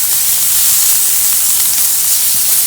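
Bacon sizzles in a hot pan with a steady, close hiss and faint crackles.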